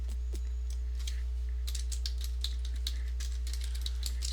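Someone types on a computer keyboard with a quick, irregular run of clicky keystrokes. It is fairly close and steady over a low electrical hum.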